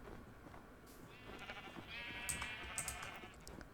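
Minecraft sheep bleat a couple of times over a soft background hum, the calls moderately close and brief, with no one speaking.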